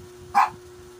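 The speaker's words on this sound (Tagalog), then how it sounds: "Gabi na na. Huwag na magtahol-tahol." One short, sharp dog bark rings out at moderate distance against a quiet background with a low steady hum.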